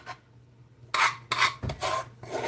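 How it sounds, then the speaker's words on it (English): A spoon scrapes mashed potatoes from the side of a bowl in a series of four or five short, close rasping strokes with brief pauses between, after a quiet start and with no speech. "Yes, I am scraping the side. I am scraping the sides."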